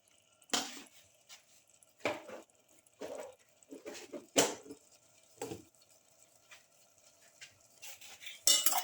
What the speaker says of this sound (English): Thoroughly mix. Mix thoroughly.